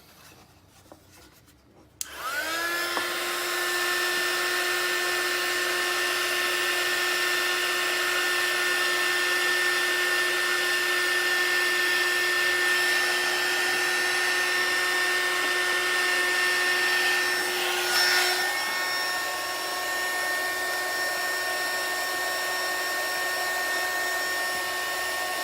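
A heat gun starts with a click and blows a loud, steady whine for over twenty seconds, like an industrial hair dryer, while shrinking heat-shrink tubing over wires during a solder-free repair on a CR10s 3D printer.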